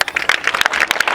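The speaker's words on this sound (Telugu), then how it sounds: "క్లాప్స్." A school audience at a Children's Day event claps after a child spells ball, a short burst of uneven claps, fairly close, with no voices over it.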